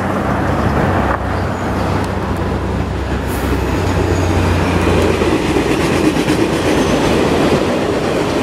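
A train runs past on a Bay Area railway, a steady loud rumble and rail rattle that holds for the whole stretch, with a low drone underneath and no talking.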